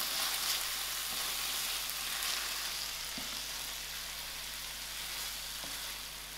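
Prawns sizzle steadily in a pan coated with tomatoes for a spicy prawn chutney, a dense continuous frying crackle with a faint low hum underneath and no talking.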